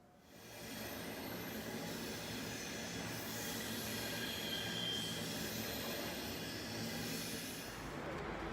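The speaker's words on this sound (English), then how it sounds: "Regio, Deutsche Bahn, Regio train just went by." A Deutsche Bahn Regio regional train passes close by, a loud, steady rumble of wheels and rail noise with faint squeals that fills the whole stretch alone, with no talk.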